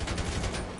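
Gunfire in GTA 5 online play, a short, loud, dense rattle of rapid shots running without pause, close and heavy.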